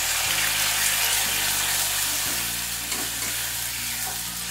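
Tomato puree hits a hot pan in a vegetarian Bengali dish, giving a loud continuous sizzle with stirring scrapes and a few clunks as the mixture is worked around.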